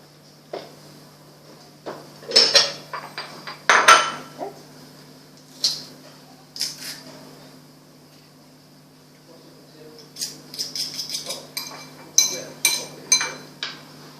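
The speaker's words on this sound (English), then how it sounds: "use garlic press for garlic." A garlic press crushing garlic cloves in a home kitchen while vegetables are prepped for a chicken stir fry: scattered clicks and squeezing clatters with short bursts of metallic clinks, close and fairly quiet over a steady low hum.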